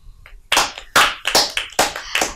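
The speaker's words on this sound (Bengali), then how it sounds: "প্রাপ্তির জন্য একটা সবাই আবার জোরে হাততালি দাও।" Children on a kids' stage show clap for a young performer in a short run of sharp, uneven claps, loud and close, with no talking.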